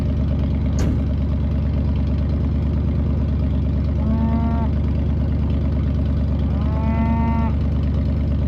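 Cattle moo twice on a winter farm, each low drawn-out call rising clearly over a steady mid-pitched engine idling close by.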